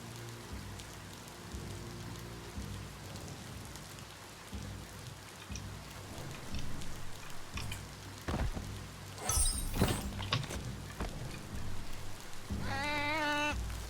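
Rain falling in the video game Biomutant, a steady even hiss on surfaces running throughout, with a few sharper crackles and game sounds layered on top near the end.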